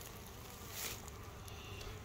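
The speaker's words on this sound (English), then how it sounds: "Got a couple of guard bees up here at the top." Honey bees, including guard bees, buzz at a colony's hive entrance. A faint, steady insect drone runs through a brief moment, swelling slightly once.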